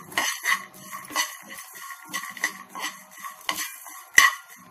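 Ingredients for a stuffed brinjal masala curry being stirred and fried in a pan, with repeated scraping strokes of a spoon against the metal and a light sizzle underneath, plus one sharp clink near the end.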